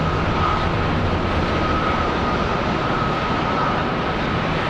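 An Etihad airliner departing Charlotte Douglas International Airport, a loud sustained jet engine roar with a steady high whine, constant across the whole stretch.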